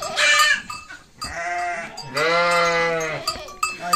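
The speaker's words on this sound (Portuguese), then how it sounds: "O vídeo aqui que o Zóinho me chamou pra mostrar uma ovelha valente" A brave sheep bleats loudly and up close, two long wavering bleats with a shorter call between them, surrounded by farmyard noise.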